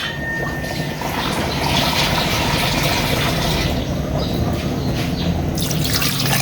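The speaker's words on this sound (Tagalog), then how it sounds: "Dagdagan ko ng tubig to." Water pouring steadily into a cooking pot of sinigang soup, a dense splashing, gurgling stream that holds for several seconds at close range and shifts brighter near the end.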